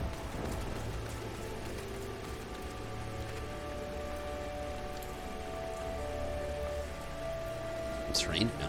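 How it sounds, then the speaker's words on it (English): Rain falling outside, a steady soft patter on surfaces that continues throughout at low level, with faint background tones and murmured voices. "It's raining outside."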